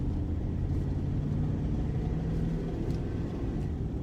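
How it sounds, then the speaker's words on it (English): A car engine running noisily in tow mode while driving through a February blizzard, a steady low rumble with road noise that holds at an even level throughout. "if you're wondering why my engine is a little noisy."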